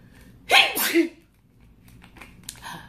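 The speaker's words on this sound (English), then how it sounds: "Hold on, I have to sneeze." A single loud sneeze bursts out close by, followed by soft breathy sounds and a faint voice murmuring afterward.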